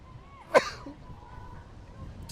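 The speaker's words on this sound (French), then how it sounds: "je pense que ça va me faire éternuer." A single short sneeze in a corridor in Yokohama, sharp and close, standing out briefly over quiet background noise.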